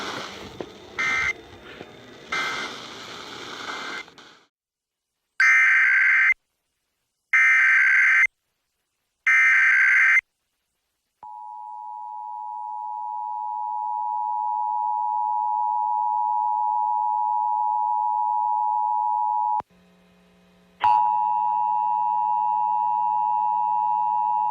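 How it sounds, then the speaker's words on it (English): Emergency Alert System test from Iowa: three bursts of shrill digital data tones with gaps between them, a long steady attention tone, a short silence, then a second, harsher tone that carries on to the end. "The data tones you just heard are used in the emergency alert system"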